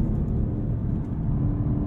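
Cadillac CT5-V Blackwing engine during a no-lift gear shift, heard from inside the cabin as a deep, steady low rumble with a slight dip around the shift, close and continuous without talk.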